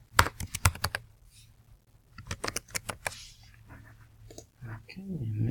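Someone types a username on a computer keyboard during an app prototyping session: two close bursts of rapid, crisp keystrokes separated by a pause, with a soft voice and a few small clicks between.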